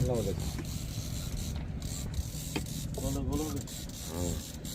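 A colour printing machine runs with a steady mechanical whir and repetitive clattering, while people talk over it nearby.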